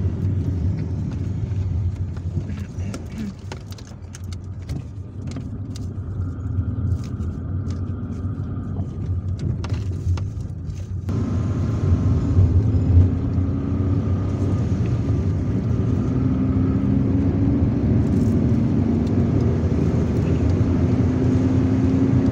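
A car's engine and tyre rumble hold steady through a night drive in Algiers, with road noise swelling midway as the vehicle picks up speed and a faint indicator-like ticking early on.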